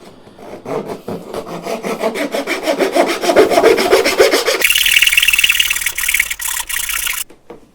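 Hand saw cutting wood in a cross cut miter box, rhythmic back-and-forth rasping strokes that grow louder, then speed into a faster, brighter scraping before stopping, close up and without talk.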